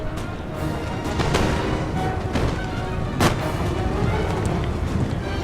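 Artillery and musket fire from a Napoleon Total War multiplayer battle near the pyramids, a continuous rumbling din of distant booms and crackling volleys with a few sharper, louder blasts standing out.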